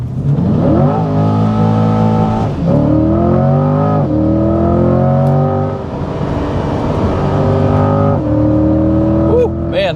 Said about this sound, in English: let's go ahead and do a 0 to 60 run here and see what happens